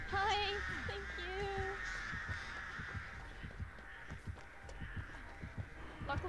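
Crows caw in the video game Dead by Daylight, a few harsh calls near the start and then fainter ones, while people talk over them throughout.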